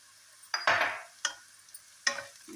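Spice powders sautéed in a pan for egg dum biryani, a few separate spoon scrapes and stirring swishes against the metal, with a faint sizzle between them and quiet pauses.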